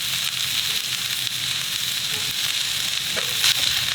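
Sweet white onions caramelizing on a Blackstone griddle: a loud, constant close sizzle with a brief crackle near the end, no talking.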